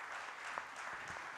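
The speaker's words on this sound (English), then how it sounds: "Please applaud the fantastic panel." Faint applause from a conference audience for a panel at a finance forum in Ethiopia, a brief patter of clapping heard from a distance.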